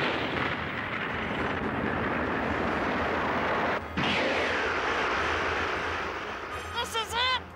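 Cartoon weapon fire in an old Voltron animated battle, a heavy rumbling roar of blasts and engine-like noise with a sharp crack midway, ending in warbling sci-fi zaps, with voices speaking over it.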